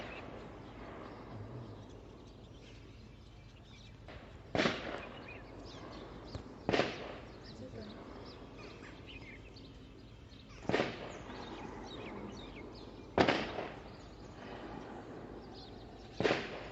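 Gunshots ring out during a militant encounter in Srinagar, Kashmir: five or six sharp, isolated cracks spaced several seconds apart, each with a brief echoing tail over a low, steady outdoor background.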